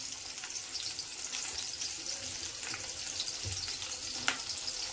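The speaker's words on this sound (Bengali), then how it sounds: "কেটে রাখা পেঁয়াজগুলোকে আমি এর মধ্যে সব দিয়ে দিলাম।" Chopped onions fry in hot oil for Maggi noodles, a steady dense sizzle with faint stirring scrapes and one brief clink near the end, close and moderately quiet.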